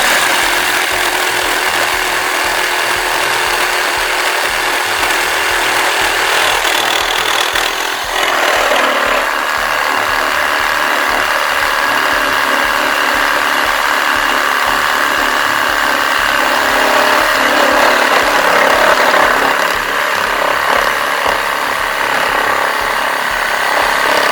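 A Milwaukee Hackzall 2420-20 reciprocating saw fitted with a wood-with-nails blade cuts through wood, its motor buzzing loud and continuous with a grinding, rubbing texture and a brief shift in pitch partway through.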